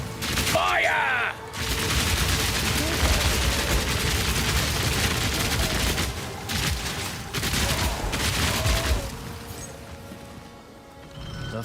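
Rapid automatic crossbow fire in the action game Path of Exile 2, a loud sustained barrage of bolt shots and impacts with a brief pause near the start and another around six seconds, over game effects.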